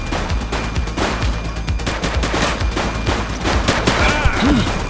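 Police open fire in The Precinct, with a dense, continuous volley of loud gunshots crackling throughout and a few sharp chirps and whizzes mixed in near the end. No voices are heard.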